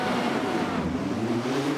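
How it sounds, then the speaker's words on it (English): Formula Renault race car engine revving at the start of a simulated race at Silverstone, a steady loud engine drone holding throughout with no talk. "Revs are rising."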